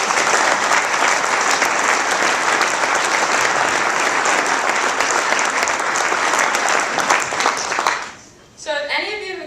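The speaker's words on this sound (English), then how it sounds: "So if we could give them a round of applause" Sustained applause from a crowd at a university scholar-athlete awards ceremony fills most of the clip, loud and dense, then fades out as a voice begins speaking at the end.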